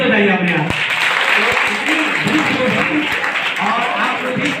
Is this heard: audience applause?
yes